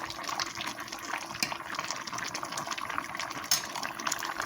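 Ham and sweet potato stew with thickened gravy simmering over a lowered flame, giving a soft, steady bubbling and faint liquid gurgle throughout, with no talking.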